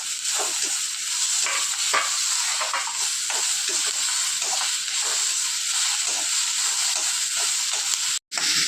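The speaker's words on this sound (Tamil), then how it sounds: "தக்காளியும் அதில் போட்டு வதக்கணுங்க இப்போ தக்காளியும் கொஞ்சம் வதங்கட்டும்" Tomatoes sauté in a pan for a bottle gourd chutney, with a continuous loud sizzle and hiss and regular soft stirring strokes pulsing beneath it, then a brief dropout near the end.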